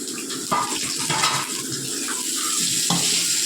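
Hot oil spattering while spices are tempered, a dense close sizzle and crackle with a couple of sharper pops, steady and fairly loud throughout with no talk.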